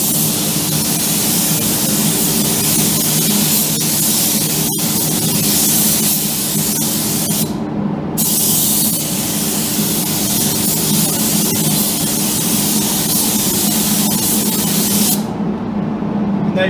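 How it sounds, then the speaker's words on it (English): Clear coat sprayed onto car rear lights from a spray gun, a loud, steady hiss of rushing air that runs almost continuously with two brief pauses, with an extraction fan nearby. "We're doing 1 more coat, and that's it. Now, it's only a quick coat."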